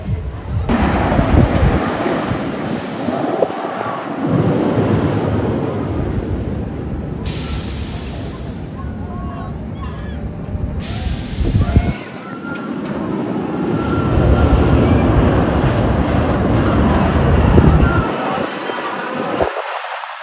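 Loud, continuous wind roar rushes past the microphone during a ride on Kingda Ka, the world's tallest roller coaster at Six Flags Great Adventure in New Jersey, surging and easing over about twenty seconds with a brief lull midway.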